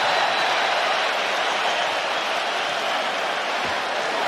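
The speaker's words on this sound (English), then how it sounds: "The crowd reacting" A basketball arena crowd at an NCAA men's tournament first-round game, Gonzaga against McNeese State, sends up a continuous, even roar of cheering and clapping, a broad wash of noise that stays level throughout.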